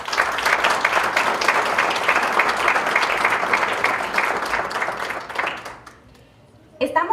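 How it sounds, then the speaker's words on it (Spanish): An audience at a conservation panel event applauds in a full, steady burst of clapping that fades out toward the end, followed by a brief noise as the room goes quiet. "Un gran aplauso, por favor."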